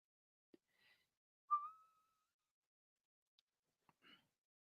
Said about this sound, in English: That whistle wasn't loud